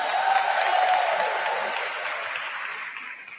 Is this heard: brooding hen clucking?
no